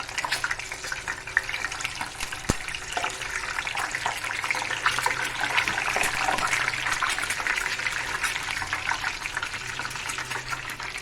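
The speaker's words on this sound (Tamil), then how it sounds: "இந்த மாதிரி எண்ணெயில் பொரிக்க விடுங்க." Eggs fry in oil, which sizzles and crackles steadily in a pan, with a few sharp pops and a rising bubbly hiss midway.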